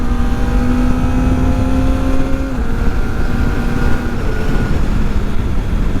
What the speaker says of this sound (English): one of the things I like about this bike is you can kind of rev it up and not break the law